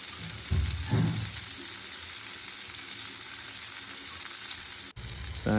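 Fish frying in plenty of oil with curry leaves in a pan, a steady bright sizzle throughout, with a few soft thuds of movement near the start and a brief clatter at the end.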